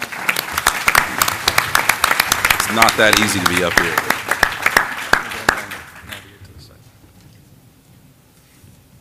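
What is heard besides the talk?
audience applause welcoming startups on stage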